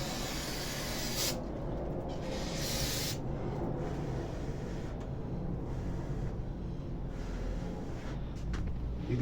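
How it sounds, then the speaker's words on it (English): An aerosol can sprays in steady hissing bursts while assembling pistons into an Audi 1.8T engine block, with a couple of louder sprays early on and continuous hiss throughout. "Spray it."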